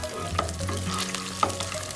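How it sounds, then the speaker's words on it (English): Ginger frying in hot cooking oil, a close, steady crackling sizzle with a couple of sharp clinks from a utensil against the wok, no voices. "Okay, fry the ginger."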